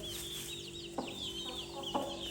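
A rooster clucks to call chicks to food, giving two short clucks over a steady stream of high chick peeping nearby.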